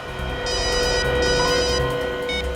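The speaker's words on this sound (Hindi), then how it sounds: "उस खबरी रघु का फोन था" A telephone rings in a tense crime-drama scene, two bursts of ringing over a steady music bed, the second one brief near the end.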